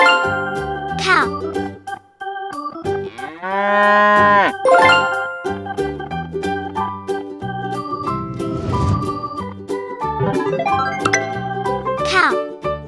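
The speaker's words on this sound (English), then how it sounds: "Cow." A cow lets out a long, drawn-out moo in the middle of a cheerful children's song with plinking melody and chimes, with a voice speaking over the music.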